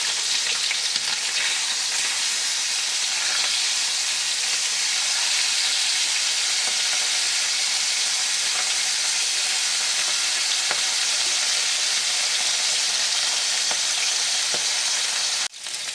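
Bhetki fish pieces crackle and sizzle in hot oil, a close, constant, bright frying hiss with faint spatters throughout, cut off abruptly at the very end.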